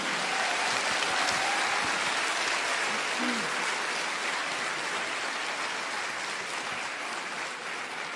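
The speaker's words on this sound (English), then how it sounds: "Let's make a big, warm applause for Sadhguru and his team." Audience applause welcoming a spiritual teacher at an event in Azerbaijan, a dense, steady wash of clapping from a large crowd that holds at full strength throughout.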